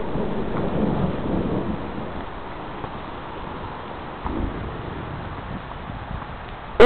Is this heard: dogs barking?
no